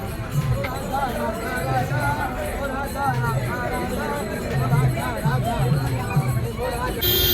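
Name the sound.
crowd of devotees at night in Vrindavan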